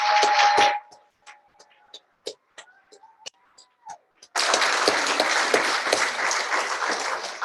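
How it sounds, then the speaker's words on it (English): Audience applause for contestants at a Toastmasters District 48 humorous speech contest: a brief burst of clapping, a few scattered claps, then loud, sustained applause filling the hall. "let's give our contestants another round of applause"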